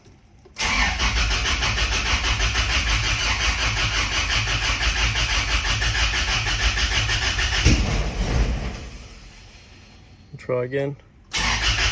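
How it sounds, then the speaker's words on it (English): Car engine cranking and catching after a head gasket job with new head studs, running loud and steady with a sharp backfire, then dying away; it cranks again briefly near the end while a voice talks over it. "Backfiring a bit."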